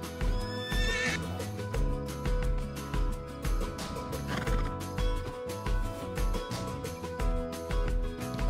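A horse whinnies and its hooves clip-clop in steady rhythm in the video game Spirit Lucky's Big Adventure, carried over a bright, busy musical score with repeating notes.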